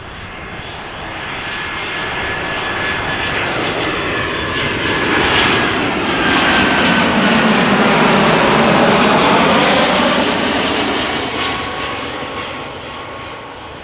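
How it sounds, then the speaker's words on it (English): An Airbus A330-200 airliner arriving at Amsterdam Schiphol passes with a loud, steady jet-engine roar that builds, peaks with a whining tone and Doppler sweep mid-pass, then fades slowly, with no voices. "Got an A330-200 arriving from Edmonton that looks to become number 3."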